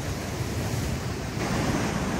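Stormy Black Sea surf breaking near a pier, a continuous loud roar of crashing waves with heavy wind buffeting the microphone throughout.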